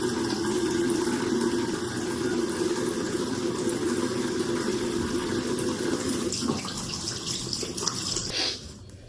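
Steady close rush of water from a running bathroom tap while a face is washed with Neutrogena oil-free acne wash, continuous and fairly loud before cutting off near the end.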